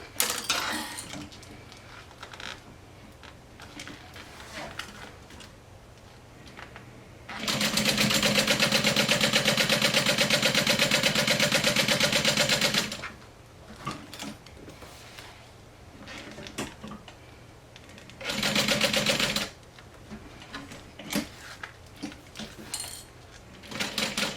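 A sewing machine top stitches around a fanny pack in two bursts, a long steady whirring run followed by a shorter one, with small handling clicks and quiet pauses between.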